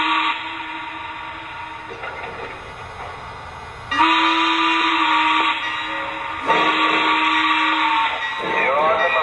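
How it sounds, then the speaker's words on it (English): Lionel 2-8-8-4 EM-1 model steam locomotive running with synthesized sound effects, including a steady rumble and two long, loud horn or whistle blasts, with radio-style chatter mixed in. "that'll automatically control the sounds as we run the train"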